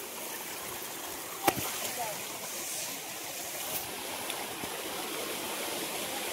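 Water flowing steadily below a cave on the Bhimashankar trek, a continuous rushing stream wash heard at moderate distance, with a brief sharp knock and a few small noises over it.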